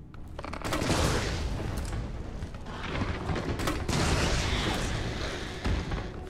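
Repeated shotgun blasts in Resident Evil 3, fired at a big enemy in Raccoon City, booming in a dense, continuous barrage with several sharp reports over the whole stretch.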